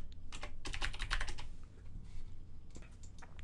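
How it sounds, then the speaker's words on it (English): Keys clatter on a computer keyboard while spreadsheet data is entered in Google Docs, with fast bursts of close clicking, a short pause, then further lighter taps. "I'm just typing this and pressing Tab to move one cell to the right"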